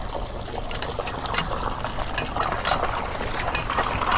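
Water runs through newly installed plumbing pipes on a temporary extension line, a steady rushing, trickling flow that holds at an even level from start to finish with no talk.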